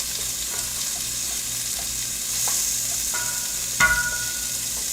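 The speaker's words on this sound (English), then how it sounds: "I want to melt some of this fat, get the juices locked into the meat, and get some of that grease out." Lamb fat melting in a stew pot, giving a constant close sizzle with a few faint scrapes and clinks of stirring near the end, and no talk.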